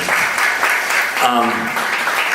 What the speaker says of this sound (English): round of applause real quick for everybody